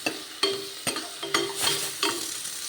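Onions sauté in hot oil in a pan for a home-style mutton gravy, a close, steady sizzle broken by several sharp spatula scrapes and knocks at regular intervals as the onions are stirred.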